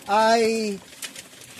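Pigeons cooing in a breeder's loft, one close, loud, resonant coo of under a second, followed by faint background rustle and a brief voice.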